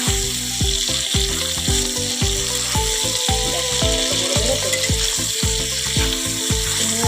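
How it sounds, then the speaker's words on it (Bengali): Large prawns fry loudly in hot oil for a Bengali prawn and potato curry, a steady close crackling sizzle broken by rhythmic clattering strokes of a spatula against the pan. "চিংড়ি মাছগুলো ভেজে নিই দেখো বন্ধুরা চিংড়ি মাছটা দিয়ে দিচ্ছি"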